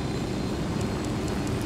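Helicopter in the video game Ghost Recon Wildlands: a steady, loud, dense rotor and engine roar with low throbbing beats, continuous and close throughout.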